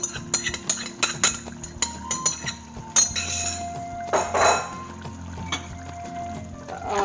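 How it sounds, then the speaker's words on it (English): Pre-cooked masoor dal goes into a boiling pot amid metal utensil clinks and ringing taps, then a brief wet splash and slosh, close and moderately loud, without speech. "we're going to add the pre-cooked 1 pound of masoor dal"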